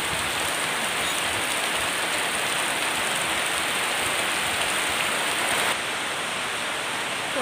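A downpour drums steadily nearby, a thick, unbroken wash of rain on surfaces that dips only slightly near the end.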